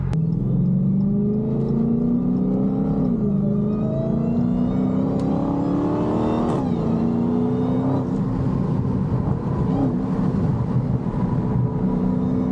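A Dodge Hellcat on a Dallas street pulls away and accelerates, its engine note climbing steadily through the gears with a deep rumble and whine, close and loud, with no talking.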